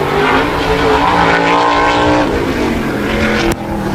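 A modified race car laps an oval during qualifying at Wall Stadium, its engine a loud, sustained roar that swells and holds through the turns before cutting off sharply near the end.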